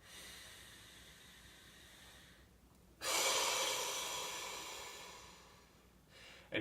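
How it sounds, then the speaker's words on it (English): A slow, steady inhale drawn in through the nose during a morning yoga routine, rising into a loud, airy rush that lasts a few seconds before easing off, with a softer earlier breath before it. "So again, breathing in through the nose"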